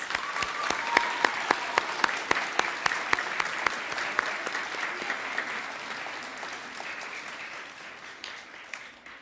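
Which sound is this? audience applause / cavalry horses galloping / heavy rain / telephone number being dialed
audience applause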